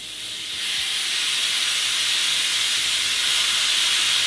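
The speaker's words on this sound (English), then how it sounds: "if you're old school like me, you have this thing, you have to release the pressure first" Steady loud hiss of steam escaping a stovetop pressure cooker as its pressure is released during cooking of Korean galbi jjim short ribs, rising within the first second and then holding continuously.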